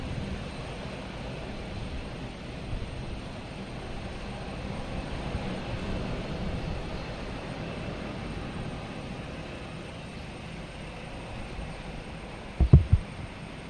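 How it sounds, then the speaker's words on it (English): An Etihad airliner departing Boston Logan Airport gives a distant, steady engine roar that swells slightly and fades, broad and low, with a brief close knock near the end. "So we have Etihad heading back to Rome."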